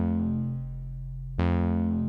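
Ableton Meld synth holding a sustained, buzzy chord that swells and pulses slowly under Euclidean LFO modulation, with a brighter re-attack partway through; loud and alone, no voices.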